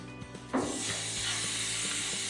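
A steak laid on a hot grill gives a sudden burst of hiss that settles into a steady, close sizzle carrying on alone.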